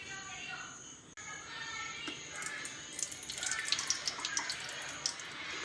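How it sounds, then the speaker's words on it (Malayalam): Coconut oil is poured into a hot copper pan for garlic pickle, giving a steady watery rush and hiss that grows busier with crackling spits toward the end, fairly quiet and close. "അതിലേക്ക് ഞാൻ വെള്ളെണ്ണ ഒഴിക്കുന്നുണ്ട്"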